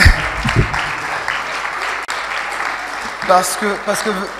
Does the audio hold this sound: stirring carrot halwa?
no